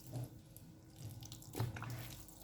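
Milk poured over leftover bread pieces in a bowl for bread pudding, a soft steady liquid trickle with a few brief splashes, fairly quiet and close, no talking.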